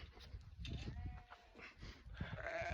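Sheep and goats on a Yorkshire Dales farm bleat together as the goats follow the sheep rounds. Several overlapping, wavering cries, some near and some farther off, sound over steady outdoor background noise.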